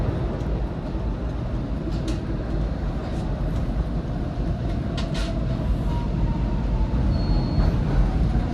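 A SEPTA Market-Frankford Line train rumbles steadily along the track in a constant, loud ride, with a few faint clicks and squeaks from the rails.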